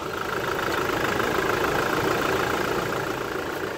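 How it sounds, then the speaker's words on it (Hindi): A Toyota Innova Crysta's 2.8 litre diesel engine idles with the bonnet open, a steady dense rumble with an even clattering texture, loud and close, with no talk over it. "करते हैं बोनट को ओपन और करते हैं ये जो इंजन है इसको स्टार्ट।"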